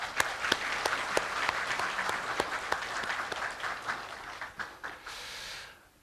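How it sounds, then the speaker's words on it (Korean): Applause from a graduation ceremony audience honoring family and relatives, steady clapping with sharp individual claps standing out, sustained for about five seconds before tapering off. "우리 가족 친지분들한테 박수를 보내주시기 바랍니다."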